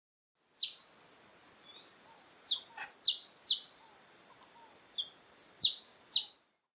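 A saffron finch gives bright, high, clear chirps in short clusters of two or three notes separated by brief pauses, close and clean against a quiet background.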